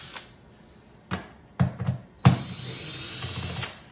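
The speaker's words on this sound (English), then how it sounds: "I got a 10mm socket, gonna take those bolts out" A 10mm socket on a power tool backing bolts out of a Tesla Model 3 during a park sensor replacement, several short whirring bursts separated by pauses, then one longer run of about a second, close and fairly loud.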